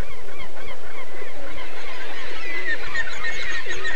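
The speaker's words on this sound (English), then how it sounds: "Kittiwakes right in their midst start arguing about who owns that rock." Kittiwakes crowd a rock on Green Island, Newfoundland, squabbling with loud, overlapping harsh calls and shrill cries that rise into a dense, continuous clamor, close and busy throughout.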